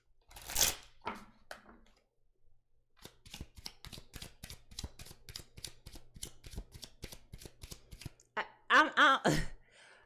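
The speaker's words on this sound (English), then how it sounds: "Look, I can't even shuffle." A deck of tarot cards is shuffled in a run of rapid, crisp riffling clicks, with a few soft breathy vocal sounds before and after.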